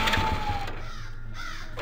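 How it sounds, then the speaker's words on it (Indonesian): A crow caws faintly a few times in the distance on a dark night road, the calls thin against a low steady background hum. "Suara burung gagak yang masih terdengar samar membuat kami merinding"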